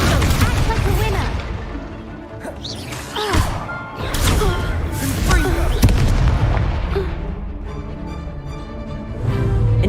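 Spell combat in Hogwarts Legacy: a fire spell and an explosive blast spell, heard as repeated loud booms and bursting impacts over a dense, continuous battle din with music, right up close.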